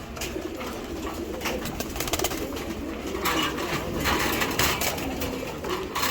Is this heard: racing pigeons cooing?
yes